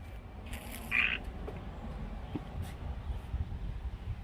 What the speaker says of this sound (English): Can you hear the frog? Listen to the frog.